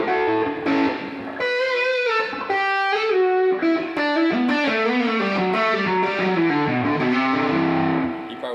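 Distorted electric guitar through an amp, ringing chords and single notes drenched in heavy reverb that washes between phrases, played alone.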